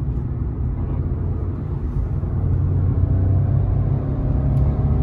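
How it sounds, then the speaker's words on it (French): A Renault Clio 5 with a three-cylinder engine accelerates hard in third gear, heard from inside as a low, rumbling engine drone that grows slightly louder partway through, with no talking. "Là, une petite accélération. En fond de troisième."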